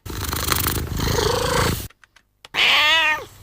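A cat lets out loud, close yowling meows separated by short pauses with faint clicks, ending in one long drawn-out wail.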